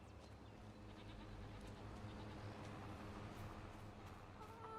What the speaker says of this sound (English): How many goats do we now have?